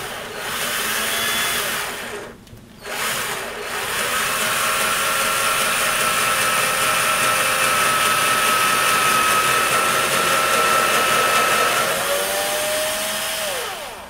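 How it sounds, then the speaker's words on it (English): Power drill boring into the front panel of a MAME arcade cabinet, a loud steady whine close by, briefly cut off once early, then running continuously with a slight pitch shift near the end. "we're stopping a little bit short of the full depth of the drill bit"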